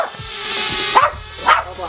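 A dog indoors gives a couple of short barks while chasing a small folding FPV quadcopter flown around the room, with a voice speaking softly under the barks and the faint whir of the drone.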